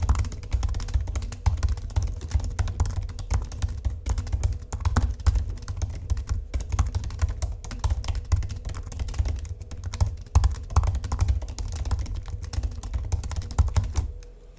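Fast, steady typing on an M1 MacBook Air keyboard, a dense stream of crisp, clicky key taps close up, continuous for the whole stretch with no voices.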